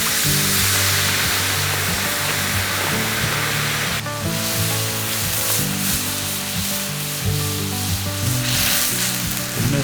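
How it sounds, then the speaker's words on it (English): Hot cast iron pan at a wilderness campsite hisses and sizzles loudly and steadily as it is cleaned, a constant broadband frying roar with a sharper surge midway, no talking. "Gonna demonstrate the fastest way to clean the cast iron."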